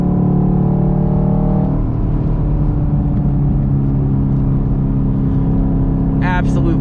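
A 2SS 1LE Camaro on Eibach lowering springs drives with a steady, loud, droning engine and road rumble heard from inside the cabin, and a brief higher squeal near the end.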